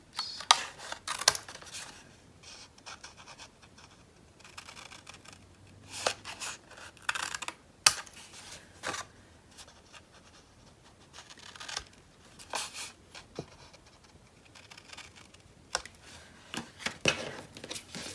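Scissors trim the corners of a spring farmhouse craft piece in a run of short, crisp snips, close and fairly quiet, with soft paper rustles between the cuts and no talking.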